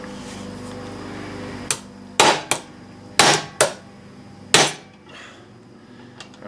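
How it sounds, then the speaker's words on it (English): Six sharp metallic ball peen hammer strikes on a Mini-14 front sight, close and loud, spaced irregularly with ringing decay after each blow against a quiet hum. "I'm going to use a ball peen hammer."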